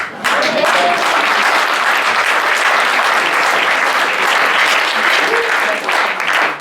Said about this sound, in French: On peut applaudir aussi le génie féminin.